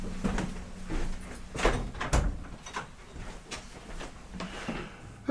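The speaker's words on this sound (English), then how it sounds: "That's probably the door swinging in the wind." A door swinging in the wind knocks and bangs irregularly, a series of dull thuds and clacks of varying loudness over several seconds.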